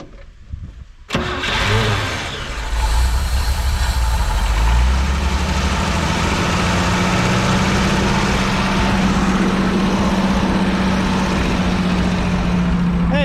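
A 1968 GMC truck with a leaking fuel pump diaphragm cranks and fires up after a silent moment, then settles into a steady, loud, rumbling idle that carries on alone.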